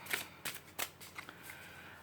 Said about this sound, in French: Je prends une carte supplémentaire.